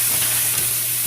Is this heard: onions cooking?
yes